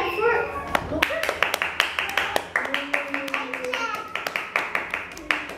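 Children clap in a classroom in short, uneven bursts of sharp hand claps, close by, while young voices chatter over and between them.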